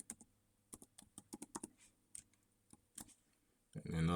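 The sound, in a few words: typing a password on a computer keyboard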